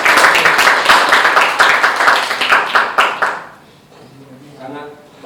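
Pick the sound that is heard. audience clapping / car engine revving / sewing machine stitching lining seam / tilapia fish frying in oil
audience clapping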